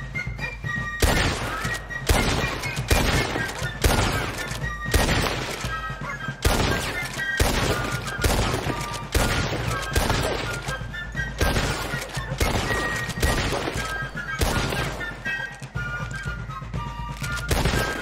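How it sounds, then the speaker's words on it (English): Gunshots fired at targets in Red Dead Redemption 2, loud, evenly spaced single shots repeating roughly every second for the whole stretch, each with a sharp crack and rumbling echo over music. "Now I gotta shoot these targets 3 times in a row."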